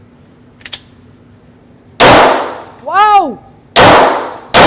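A Smith & Wesson M&P 2.0 Carry pistol is test fired outdoors, with two sharp, loud gunshots a couple of seconds apart. A voice calls out excitedly between them, and a faint click comes earlier.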